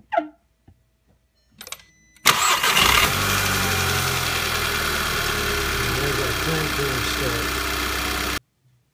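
2011 VW GTI engine starting: after a few short clicks and brief talk, the starter catches into a loud burst and settles into a steady, close idle that runs several seconds before cutting off abruptly.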